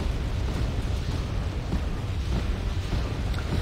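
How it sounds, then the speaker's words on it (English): Artillery barrage in the Wargame: Red Dragon real-time strategy game, a steady low rumble of distant overlapping explosions and booms rolling continuously without a clear break. "I want to check whether or not this artillery barrage does take out any vehicles."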